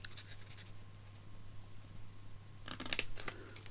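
Scissors snipping through a printed paper image for a bird collage, a quick cluster of small crisp cuts near the end following quieter paper handling, close up over a steady electrical hum.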